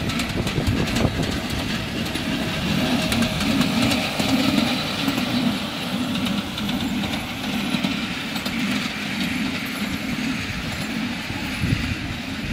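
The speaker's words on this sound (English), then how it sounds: "Got a special miniature scale electric engine coming." A miniature scale electric locomotive, a replica of the Southern CC1, runs at a model railway event with a steady rumbling drone and faint rail clatter that stays at an even level throughout, with no speech.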